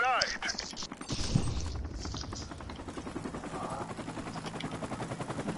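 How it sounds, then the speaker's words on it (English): Helicopter rotor chopping in a winter-map first-person shooter video game, a steady rapid thudding pulse that builds through the clip, mixed with bursts of gunfire and clatter, with a voice talking near the start. "Enemy helicopter approaching."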